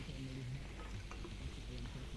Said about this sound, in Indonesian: Kita tumis bumbu yang dihaluskan